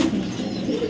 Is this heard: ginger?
no